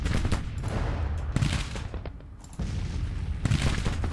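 Continuous rolling volleys of artillery and musket fire from a Grand Tactician: The Civil War battle, dense overlapping booms and crackles with a short lull in the middle before the barrage swells again, loud and without speech.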